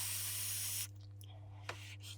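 Draw on a UWELL Crown V sub-ohm tank with a 0.23 ohm mesh coil and open airflow, a close, soft hiss of vapour lasting under a second over a low steady hum, then a faint click.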